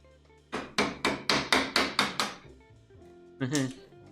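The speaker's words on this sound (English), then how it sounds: "Went a little bit deep on the chisel cut there" A wooden mallet striking a chisel while building a table saw stand: a rapid series of about eight sharp, evenly spaced knocks up close, followed after a pause by a couple more taps.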